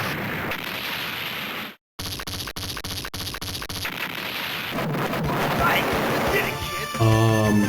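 Bombs detonating in the arcade shoot-'em-up DonPachi, with heavy rumbling explosion blasts and crackling over dense game audio, briefly cut to silence, and ending in a sharp descending tone.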